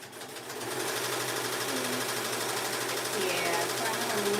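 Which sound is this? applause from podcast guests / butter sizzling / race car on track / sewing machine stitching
sewing machine stitching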